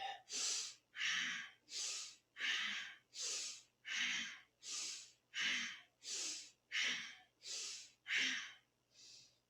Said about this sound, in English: A full inhale and a complete exhale.